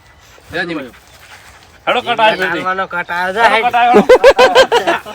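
A dog gives a brief whimper, then short yips or barks in a quick run near the end, with people talking loudly over most of it.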